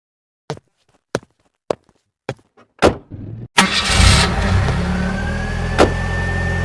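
In the game Simple Sandbox 2, a car is started after a few sharp thuds and clicks, and its engine roars up loud and close. It settles into a steady drone that carries on alone without talk.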